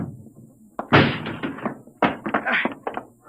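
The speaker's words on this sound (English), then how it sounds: "He'll break down the door in a minute." A door being broken down in an old science-fiction radio drama, heard as a series of heavy thuds and whacks: one big impact, then a rapid cluster of blows that ring loud and close.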